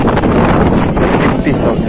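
Strong wind at sea buffets a small fishing boat, a steady loud roar of gusts across the microphone with water rushing underneath, constant for the whole stretch.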